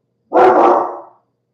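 A single loud dog bark, close by and drawn out, fading away in a moment of silence.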